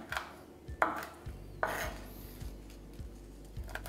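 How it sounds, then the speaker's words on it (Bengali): Dried red chillies sliced into large pieces with a knife on a cutting board, a few crisp isolated chops and scrapes over a low steady background hum, close and fairly quiet. "শুকনো লঙ্কা নিয়ে নিচ্ছি, যেগুলোকে আমাদের ঠিক এইভাবে কেটে নিতে হবে, একটু বড় বড় করে"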